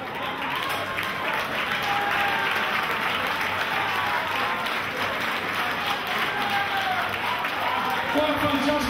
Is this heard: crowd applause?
yes